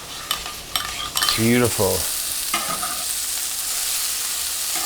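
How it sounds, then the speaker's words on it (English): Lime juice, salt, pepper and garlic powder are stirred together. The mixing comes as close scraping and swishing, and a voice speaks briefly partway through. "juice of 1 lime, some salt, pepper, and some garlic powder. It's a pinch. We're going to give that a mix."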